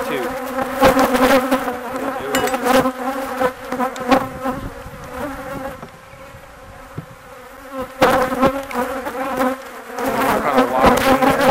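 Honey bees swarm around an opened old hive being split, producing a dense, close buzzing that rises and falls, with a short quieter stretch in the middle before the buzz swells again.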